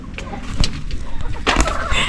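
Hens clucking softly in short, irregular bursts, close by, with rustling and scratching underneath; no talking.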